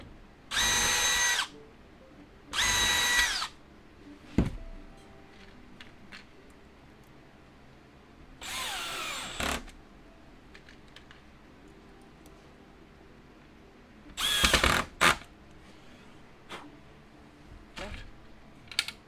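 A power drill bores holes for the latch on a homemade triple dog crate in several short, loud bursts separated by quiet gaps, with faint handling clicks between them.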